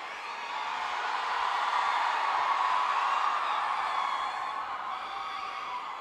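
A large cheering crowd at a live stage event, a dense roar of applause and whistles swelling quickly and holding loud and steady for several seconds.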